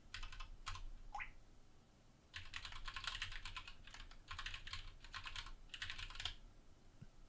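Rapid typing on a computer keyboard that sits at a slight angle, heard as clattering bursts of keystrokes separated by short pauses, close and fairly quiet, with no voices.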